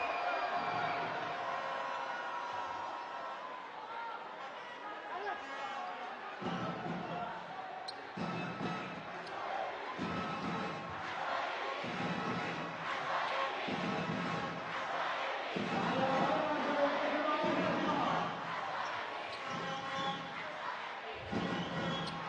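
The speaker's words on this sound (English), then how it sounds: "Certainly the crowd reacting like there's more afters going on there." At a FIBA Basketball World Cup qualifier between Iran and the Philippines, an arena crowd roars and murmurs steadily in reaction to an incident on court, under ongoing commentary, with faint ball bounces in the background.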